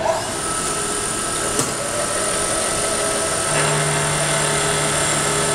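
Milling machine taking a light quill-feed cutting pass on a small metal part for a blade tensioner repair, a steady whirring motor drone with a faint cutting whine that holds evenly and slightly thickens partway through.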